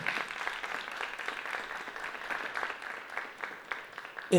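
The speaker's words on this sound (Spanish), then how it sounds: "También un aplauso, por favor, para él." Audience applauding a festival director at a Latin American cinema talk: steady, dense clapping from a seated crowd, moderately quiet, cut off by a voice at the very end.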